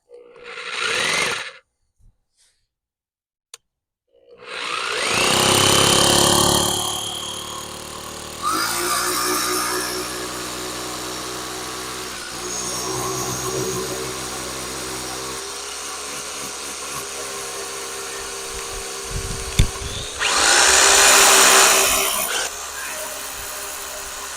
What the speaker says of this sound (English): I'm going to go ahead and drill this pilot hole and drill it as straight as I can.